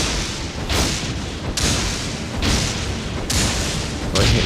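Cannon fire in Elden Ring, a series of heavy booming blasts with thudding impacts repeating roughly every second or so, loud and broadband over constant battle noise.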